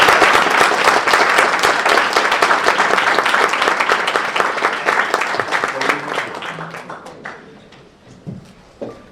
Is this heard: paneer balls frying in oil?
no